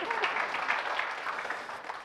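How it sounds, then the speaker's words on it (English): Brief applause from an audience at a sports council talk event, a soft, steady patter of clapping that stays fairly faint throughout. "Round of applause for yourself."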